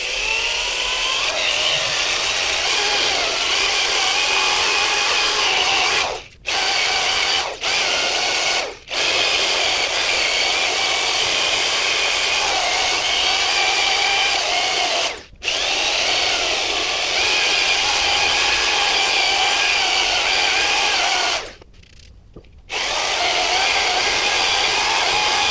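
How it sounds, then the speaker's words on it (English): Steady, loud sanding of a natural edge wooden bowl spinning on a woodturning lathe, a continuous whirring hiss with several brief dropouts where the abrasive lifts off the wood. "the first grit and the last grit are the hardest ones to sand"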